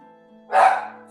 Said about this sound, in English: Oh, sorry, that was my dog.